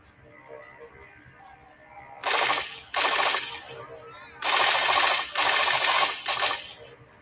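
Enemy gunfire in Scarface: The World is Yours, several loud rapid automatic bursts of about half a second to a second each, separated by brief pauses, over a low background hum.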